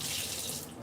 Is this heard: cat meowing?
no